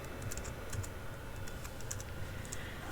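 Steady quick key taps on a computer keyboard while a network command is typed during Raspberry Pi 3B+ setup, faint and continuous over a noisy background.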